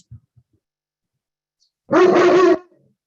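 A dog gives one short, loud bark during an online public information meeting. It stands alone after near silence, with only a couple of faint clicks before it.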